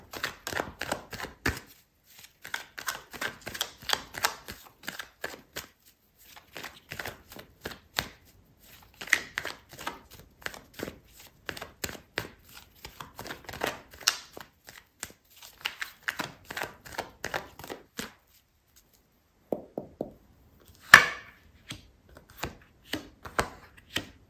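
A deck of tarot cards is shuffled by hand in repeated rhythmic bursts of riffling and flicking, close and fairly quiet, with short pauses between rounds and one sharper snap near the end.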